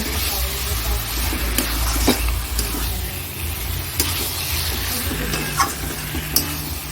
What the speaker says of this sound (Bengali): এইবার চিকেনটা দিয়ে দিচ্ছি চিকেনটা দিয়ে দিলাম তা ভালো করে কষাবো